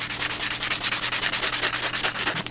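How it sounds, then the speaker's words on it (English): Old paint being sanded off the body of a 1948 Ford Deluxe convertible, a fast rhythmic rasping scrub of about five strokes a second, close and loud, with no talking. "start sanding down the previous paint job"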